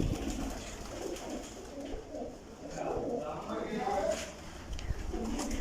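Breeder pigeons cooing in a loft, a soft continuous murmur of low coos running under steady background noise, with a few louder calls close by.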